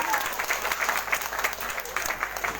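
Audience applause at a stage music programme, steady dense clapping from a crowd lasting the whole moment, fairly even in loudness with a few voices mixed in.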